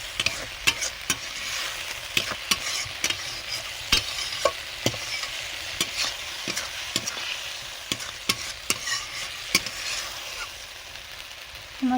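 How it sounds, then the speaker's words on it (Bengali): Spice paste fried with a little sesame water in a pan for a hilsa fish curry, a steady sizzle broken by frequent sharp ladle taps and scrapes as it is stirred. "ওর মধ্যে তিল দেওয়ার জলটা রেখেছিলাম অল্প করে দিয়ে মশলাটা কষিয়ে নেব"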